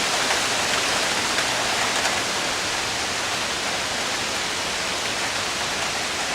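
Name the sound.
torrential rain downpour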